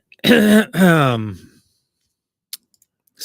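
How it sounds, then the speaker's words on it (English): A person clears their throat twice in quick, loud, close rasping bursts, followed by silence and a couple of faint clicks. "I just had to clear my throat."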